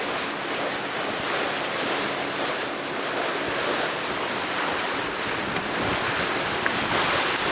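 A 50-foot sailboat motors through choppy harbor water, with a constant wash of waves and wind noise filling the background, steady and fairly loud.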